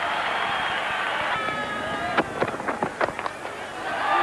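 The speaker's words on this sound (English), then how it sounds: "Listen to the crowd. Huge Sri Lankan contingency here today." A large Sri Lankan contingent in a cricket stadium crowd, during a 1992 World Cup England versus Sri Lanka match, sends up a broad roar of cheering that swells and breaks into scattered whistles and shouts, with commentary over it.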